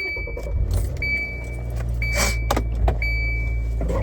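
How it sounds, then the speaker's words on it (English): A car engine is running after being started inside the car, a steady low idle rumble with keys jangling and a chime beeping intermittently above it, close and continuous. "I'm going to turn on the car."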